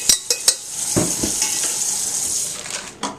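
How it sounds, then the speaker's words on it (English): Dry brown rice poured into a cooking pot, a few sharp clinks at the start, then a steady rustling hiss of grains pattering against the metal, ending with a final knock. "I'm going to make 2 cups of rice. Alright, drop it in my pot."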